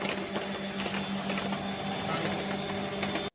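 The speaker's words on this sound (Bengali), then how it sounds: "এখন মেশিন চালিয়ে দেখাচ্ছি, একদম স্মুথ চলছে, কোনো লক নেই," A washing machine with a newly replaced drum bearing and spider runs smoothly, a steady close mechanical hum and whir with faint rhythmic ticking, no voices.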